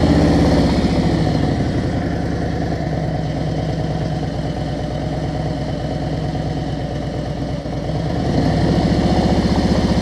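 A motorcycle engine runs at low speed during a slow-riding lesson, a steady, close, throbbing idle-like chug that dips slightly in the middle and picks back up toward the end.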